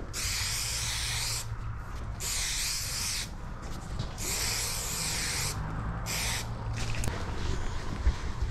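A spray can hisses in several long bursts separated by short pauses, close and steady, during work on a car headliner.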